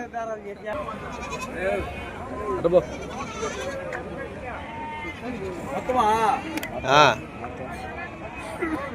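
Goats and sheep bleat repeatedly at the Gudur livestock market at night, with several calls close by over steady crowd babble, and someone talks throughout.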